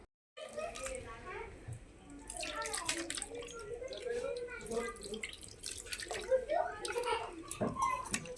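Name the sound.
water being poured into crushed raw mango pulp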